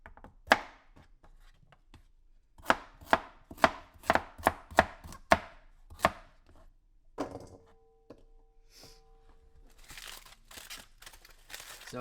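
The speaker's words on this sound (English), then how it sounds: "So we're just going to rough chop these carrots" A knife rough-chops carrots on a board for chicken broth: about eight sharp, close chops in a quick run, followed by a crinkly, papery rustle at the end.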